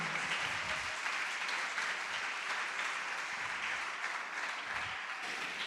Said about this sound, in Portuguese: Pode aplaudir, glorificá-lo e exaltá-lo.